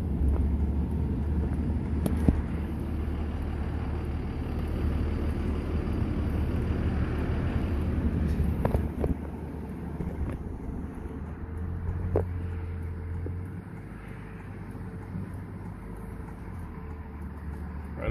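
A truck in four-low gear grinding up a steep incline while pulling a 40 ft high-cube shipping container onto a trailer: a constant deep engine rumble with wind buffeting, a few metallic clanks, and a slight drop in the drone midway.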